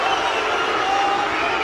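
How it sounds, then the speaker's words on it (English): A boxing arena crowd booing during the Tyson Fury vs Dereck Chisora fight, a steady, dense roar of many voices filling the whole moment without a break. "Crowd are booing them."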